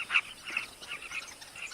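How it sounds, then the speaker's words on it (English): Carmine bee-eaters perched near flowering sausage trees in the African savanna, giving a rapid series of short, bright chirping calls close by, repeating steadily without any talking. "Carmine bee-eaters, named for their favorite prey, gather on nearby perches."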